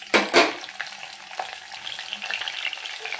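Mustard seeds, cumin and green chilies hitting hot oil, two sharp crackling bursts at the start, then a continuous frying sizzle with small pops and stirring sounds.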